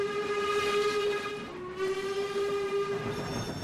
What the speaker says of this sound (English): you blow the whistle and then you release it a little bit and then blow it again